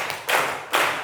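Group of children or students clapping in unison during a counting clap game in a classroom, two loud synchronized claps spaced about half a second apart, fairly close.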